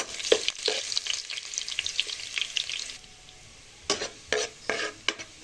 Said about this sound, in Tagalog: Una natin igisa yung luya.